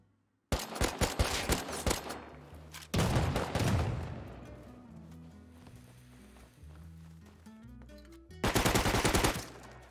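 Automatic gunfire from the video game Rust, with rapid bursts of loud, rattling shots early on, a heavy sustained volley around the third second, then a lull under game music before another dense burst near the end.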